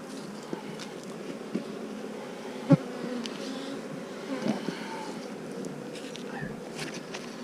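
A steady, dense buzz of many bees swarming close by, continuous throughout with a few brief louder bumps.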